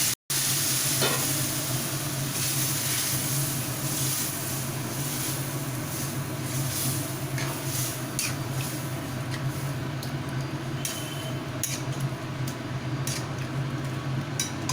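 Boiled peas and potatoes frying in a hot tempering with green chillies for vegetarian ghugni, giving a steady, continuous sizzle with soft stirring and squelching underneath, close and unbroken.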